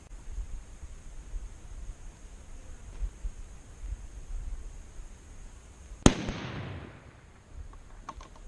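A single sharp, loud rifle shot fired through a muzzle brake cracks out against quiet outdoor background hiss, followed by a short fading echo.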